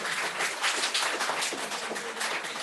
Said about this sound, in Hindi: जोर से ताली होना चाहिए।